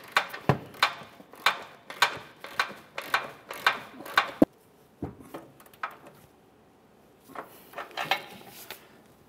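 A ratchet snugs an upper control arm bolt on a 2001-2005 Ford Explorer Sport Trac, giving close, sharp clicking bursts in a steady back-and-forth rhythm, then a pause with a few scattered clicks before the ratcheting resumes.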